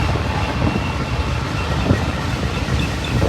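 A heavy-duty Union Pacific mixed manifest freight train rolls past close by, wagons rumbling and wheels clacking in a steady, loud drone that holds from start to end.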